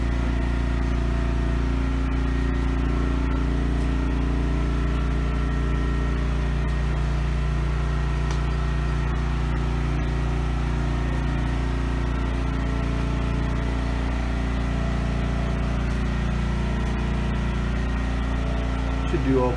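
A primed motor from an all-American build runs at a steady idle, a constant low hum that holds unchanged throughout with faint talk barely audible over it.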